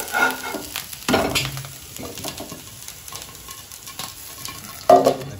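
Adai lentil pancake batter cooks on a pan over a medium flame, with soft sizzling and a few scraping turns of a spatula, close and intermittent with no talking.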